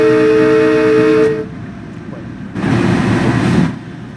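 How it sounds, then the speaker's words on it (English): A Metro-North M3A train horn in a train simulator sounds a loud, chord-like blast for over a second, then a second shorter blast follows after a brief lull, with the rumble of the train beneath. "these horns on the Metro-North units, they sound very similar to like a lot of the older diesel locomotives that we have in New Zealand"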